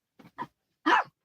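Small dog giving a few quick yips followed by one louder bark, close and brief, with silence between.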